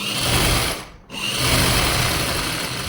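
A sewing machine stitching a seam on a salwar hums steadily and close, with a brief dip in the whir near the middle before it runs on continuously, no voices.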